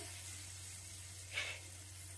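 Turmeric and salt sizzling in hot oil in a wok, a steady low hiss throughout with a brief louder crackling burst partway through, no talking.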